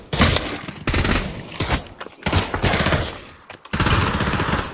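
Bursts of automatic gunfire in the VR shooter Pavlov VR during a team deathmatch, loud rattling volleys broken by short gaps, continuing through most of the stretch.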